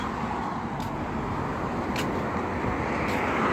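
Steady road traffic beside a building in Kuwait, with cars and taxis passing on a busy highway, forming a constant broadband roar with no breaks and brief brighter swishes of passing vehicles.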